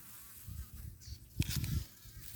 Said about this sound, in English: See, a little wasp down there. It has a bee.